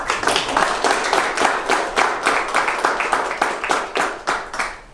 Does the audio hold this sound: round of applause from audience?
yes